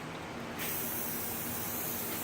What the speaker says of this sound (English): then you spray this stuff on